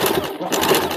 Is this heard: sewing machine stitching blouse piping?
yes